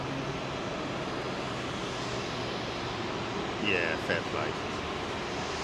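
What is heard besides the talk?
United Boeing 777-200 with GE engines at Heathrow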